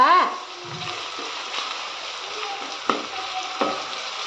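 Onions fry in a pan for egg rice, a soft steady sizzle with a few sharper clinks of stirring near the end.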